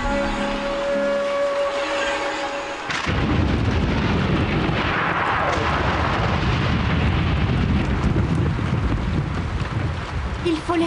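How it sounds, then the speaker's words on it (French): A thunderstorm in the Yakari cartoon breaks in with a loud, sustained roaring rumble of thunder and wind, taking over from softer music and continuing heavy and dense to the end. "Il faut laisser passer l'orage, Yakari."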